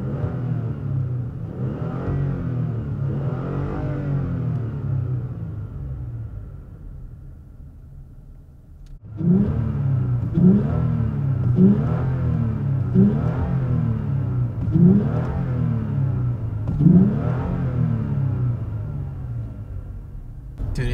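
Toyota Tacoma engine fitted with a K&N cold air intake, revved repeatedly in rising surges, a deep gurgly rumble close by, quieter for the first stretch, then a louder series of sharp rev bursts.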